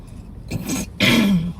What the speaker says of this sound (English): All right, clear my throat.